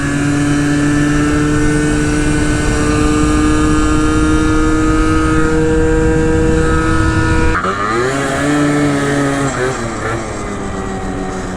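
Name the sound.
scooters riding on bike trails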